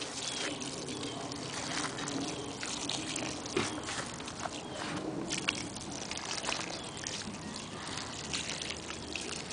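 Urine poured from a plastic milk jug onto straw bales outdoors in winter, a steady splashing trickle running continuously, close and moderately loud.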